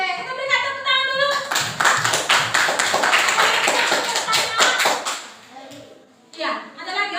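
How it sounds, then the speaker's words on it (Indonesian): Classroom group applause for a student team, a burst of hand clapping lasting several seconds, then a voice speaking as it fades. "kita berikan tepuk tangan dulu"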